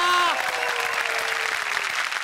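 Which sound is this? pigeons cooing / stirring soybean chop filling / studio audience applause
studio audience applause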